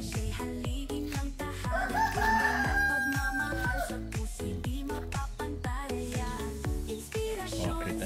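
A rooster crows loudly over a busy background of clucking chickens and clattering, rhythmic thumping noise, on a farm in Nueva Ecija, Philippines.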